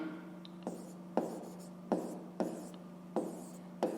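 Pen or pencil writing out a fifth-grade math exercise on paper, with a steady series of short scratchy strokes close by, each mark starting with a small tap, over a low constant background hum and no talking.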